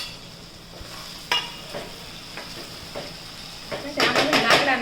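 Spoon scraping and stirring boiled potato into frying poha in a home kitchen pan, with soft sizzling and scattered clinks that grow busier toward the end, under light background noise.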